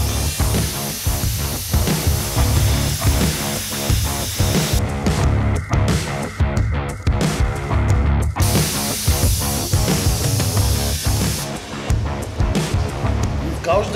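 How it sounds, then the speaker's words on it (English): A crack in cast steel is gouged out with a loud, harsh spraying hiss and crackle that carries on steadily with rhythmic pulsing bursts, close by and dominant throughout. "Now I'm going to gouge this crack out."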